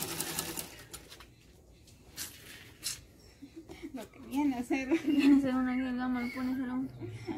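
A sewing machine stitches shirt fabric while a shirt is being taken in from size XL to S; the motor hums in the second half beneath ongoing conversation.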